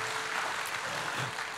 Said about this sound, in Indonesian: Kasih tepuk tangan dulu yang luar biasa.